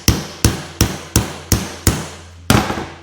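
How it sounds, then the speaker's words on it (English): Seven sharp, evenly spaced hammer blows drive a hole punch into an awning strap, each a loud close metallic crack with a short decay, the last coming after a slightly longer pause. "Punch our first hole, or at least give us a good template for it."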